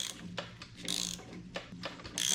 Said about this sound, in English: Just start turning this. It's a ratchet, I don't have to make circles.